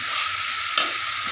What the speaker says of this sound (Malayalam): ഇനിയിപ്പോൾ നമുക്ക് നേരെ ബീഫ് ഇടാം കേട്ടോ ഇട്ട് കൊടുക്കാം ബീഫ് ഇട്ട് കൊടുക്കാം ഏകദേശം നല്ലോണം ഒന്ന് ഇളക്കി കൊടുക്കണം